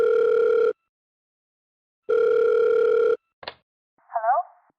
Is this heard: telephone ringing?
yes